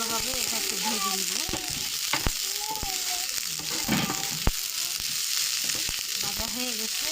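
Steady hiss of rice and vegetables frying in a pot for vegetable pulao, close and continuous, with occasional clicks of stirring and brief speech in the background.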